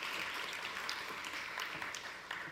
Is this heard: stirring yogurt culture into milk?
no